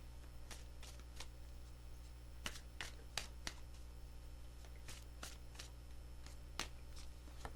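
Tarot cards shuffled softly in scattered, faint crisp flicks and taps over a low background hum, with no voice.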